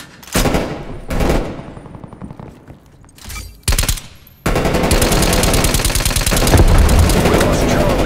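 Call of Duty: Cold War gunfire: several loud separate bursts of shots, then sustained rapid machine-gun fire with no pause over the final seconds, close and dense.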